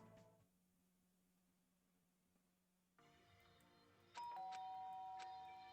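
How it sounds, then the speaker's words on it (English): A doorbell in a video game rings with a loud, bright chime near the end, following quieter electronic tones and a low hum. "The doorbell."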